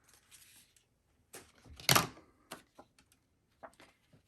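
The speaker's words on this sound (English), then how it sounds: "I'm going to actually just trim this extra off." A decorative paper trimmer slices through patterned paper with one crisp, sharp cutting snap, surrounded by faint clicks and soft paper handling in a quiet room.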